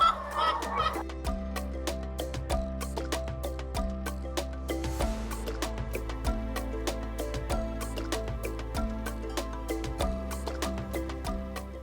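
Caged laying hens in a poultry unit of around 2,000 birds fill the space with continuous clucking and squawking, overlapping calls against a steady low mechanical hum, dense and near.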